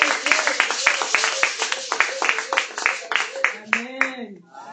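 A church congregation applauds the Lord Jesus, a loud crowd of rhythmic clapping and cheering voices at close range, rising and falling over several seconds before tapering off.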